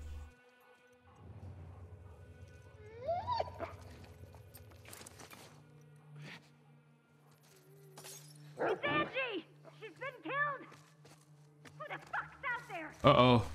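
A dog barks in The Last of Us Part 2 video game, a few sharp, urgent barks in the later part among clattering, shattering game sounds and character voices.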